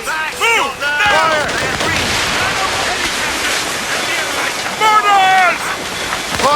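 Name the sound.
mortar fire in video game Assassin's Creed Rogue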